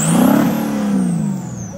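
A 5th gen truck engine revs close and loud with a rising turbo whistle spooling up, then the pitch eases down as the revs settle, with no talk over it.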